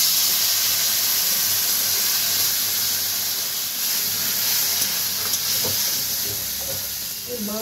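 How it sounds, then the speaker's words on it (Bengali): Water poured into a hot pan of small chuno fish cooked with green tomato sets off a loud, steady steamy hiss and sizzle that fills the clip, with faint clinks near the end. "এবার জল দিয়ে দেবো।"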